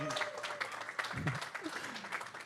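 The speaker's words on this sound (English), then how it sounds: "Let's have a round of applause for Mr. Darko Davtovic." Clapping rises from the audience at a LAN gaming tournament for a participant named Darko Davtovic, a soft, continuous patter of applause with a voice faintly audible beneath it.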